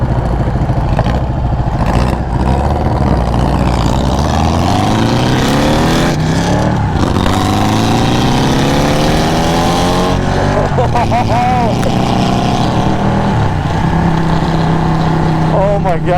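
Loud, close engine of a VW trike revving hard through wheelies, pitch climbing and falling in repeated sweeping surges with a continuous roar, voices faintly under it.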